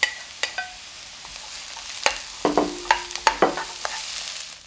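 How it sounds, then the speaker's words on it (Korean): Green onion and onion stir-fried in oil in a pan, a soft sizzle under sharp, irregular clicks and scrapes of a spatula tossing the pieces, close by, with no voices. "팬에 기름을 두르고 파를 볶아 파향을 낸다. 그리고 양파를 살짝 볶다가"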